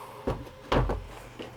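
A server rack door comes loose and falls out, making a few knocking, rattling clunks with a louder thud in the middle, close and with no talking.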